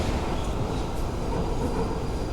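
London Overground train in the video game Fallout London rolls along with a steady, loud low rumble of wheels and carriage noise, continuous throughout with no voices.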